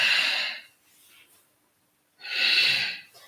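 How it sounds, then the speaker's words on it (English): Two long, forceful breaths pushed out audibly during an energizing yoga flow of twists and forward folds, each a loud breathy rush separated by quiet, with a faint softer breath between. "using an audible sound on the exhale for both the twist as well as the forward fold"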